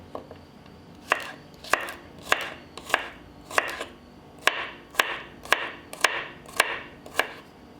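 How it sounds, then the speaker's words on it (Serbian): A knife chops four garlic cloves on a cutting board in about a dozen crisp, separate taps, near and fairly quiet, falling in an uneven but steady rhythm. "I sada ću iseckati i 4 čena belog luka."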